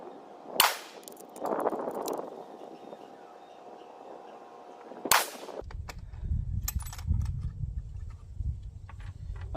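Two loud, sharp rifle shots several seconds apart fired at a target while a 6-24x50 scope is zeroed, each with a brief outdoor echo, followed by rustling and handling noise.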